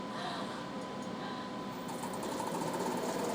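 A homemade CNC tap holder with clutch turns on a spindle at 400 RPM, giving a steady, faint mechanical whir with a fine rapid rhythmic chatter that brightens in the second half.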